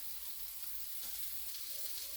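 Poppy seed fritters made with a little flour fry in oil with a faint, even sizzle, a soft continuous hiss at low volume with no voices.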